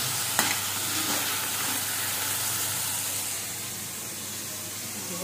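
Mushrooms fry in a kadai over the flame with a steady, dense sizzle and hiss that fills the whole stretch, close and constant, with a faint clink near the start.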